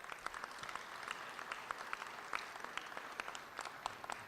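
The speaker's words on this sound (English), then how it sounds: "Y'all give him a round of applause." An audience at a breakfast event applauds, with scattered close claps popping over a softer, fairly quiet wash of clapping that continues steadily.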